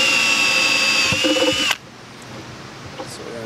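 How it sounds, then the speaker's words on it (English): A power drill whines loudly for under two seconds, bites into the metal of an MSD intake manifold for a Corvette Z06 engine, then stops abruptly, leaving quiet workshop room noise. "So we're gonna drill that out so we can use the sensor on there."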